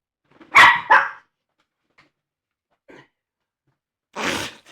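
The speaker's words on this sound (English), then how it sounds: "That's a dog. That's a dog." Two sharp dog barks close by, a quick pair, then near silence with faint noises before a third bark; no talking.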